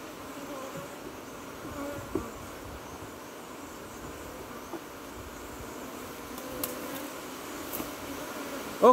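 Trinidad Africanized honey bees buzz around a hive in a steady, low drone, with a few sharper bee passes flying close to the microphone.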